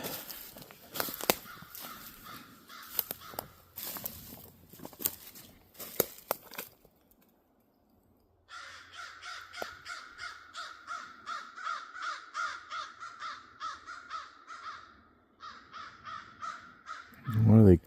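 Crows caw repeatedly outdoors on the North Shore, a long run of rhythmic harsh calls at moderate distance, pausing briefly then resuming, with footsteps and rustling earlier and people talking nearby.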